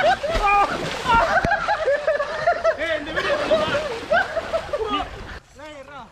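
A person jumps into cold water on a trip in Vagamon, making a splash and sloshing amid loud chatter and laughter from several people nearby.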